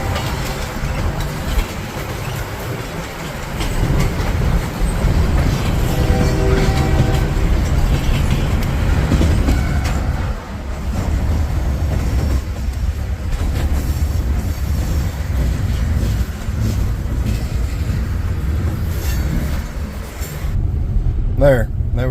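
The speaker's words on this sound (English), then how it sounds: "Here's a little train for you." A train rolls past nearby in a long, steady, loud rumble of wheels and cars that barely lets up, with thin squealing tones creeping in near the end.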